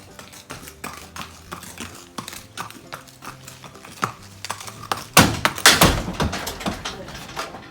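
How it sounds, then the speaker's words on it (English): A horse's hooves clop and thud in an uneven sequence as it steps onto a trailer, with sharper knocks on the trailer floor, then a louder burst of scuffing and banging near the end. "if you've never seen a horse load on a trailer, I thought this could be interesting to you"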